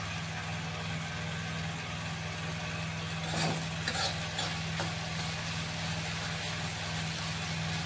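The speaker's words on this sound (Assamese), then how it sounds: "এইখিনি মাছে এতিয়া ভাজি আছোঁ।" Small fish fry in hot oil in a home kitchen, a steady low sizzle under a constant background hum, with a few brief crackling spatters near the middle and no talk.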